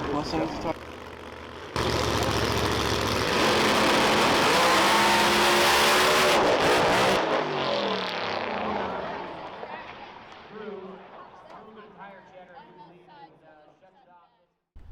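Pro Mod drag race cars, including a Mustang, roar down a dragstrip in a loud, sustained blast that swells and then fades into the distance, with voices talking over it.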